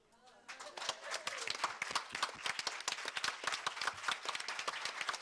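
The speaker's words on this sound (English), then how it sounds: "Let's give a nice round of applause for them" At a Quantum Leap fan convention, an audience applauds its guest panel: after a brief voice, a burst of many sharp, irregular hand claps builds and carries on steadily, fairly close and lively.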